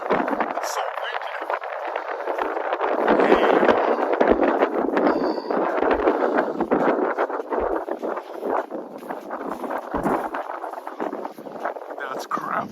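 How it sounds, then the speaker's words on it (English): Strong, cold winter wind in Veliky Novgorod, Russia buffets the microphone in a steady, rumbling roar, with a voice speaking over it. "It's so windy."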